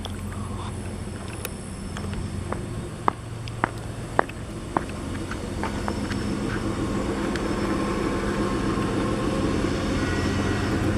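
Train switching in a rail yard: a steady low rumble of rolling cars and engine drone, with sharp metallic clanks and squeals scattered through the first five seconds, heard from a moderate distance.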